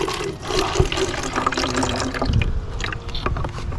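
Hydrogen peroxide splashes and gurgles as it is poured into a jar or jug for an elephant toothpaste experiment, a close, steady stream of liquid.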